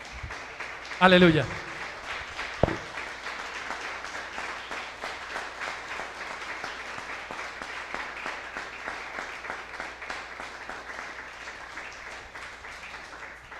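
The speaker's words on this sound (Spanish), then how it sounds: "démosle un aplauso al Rey" A church congregation claps steadily and rhythmically for a long stretch, with a voice calling out briefly near the start over the applause.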